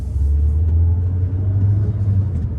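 A 2014 Peugeot RCZ engine hums at a low, steady rumble as the car pulls away in first gear, a continuous close drone with no talk over it.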